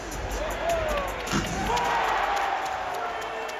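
Crowd in a basketball arena cheering and whooping, a steady loud roar of many voices with scattered shouts throughout.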